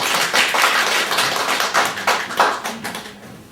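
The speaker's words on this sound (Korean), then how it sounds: "일단 박수 좀 한번 쳐봐" A lecture audience claps after a special lecture on the Donghak Peasant Revolution, giving dense, close hand clapping that gradually thins out and fades over a few seconds.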